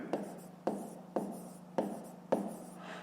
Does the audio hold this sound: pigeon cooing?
no